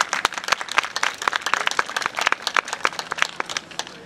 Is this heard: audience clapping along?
yes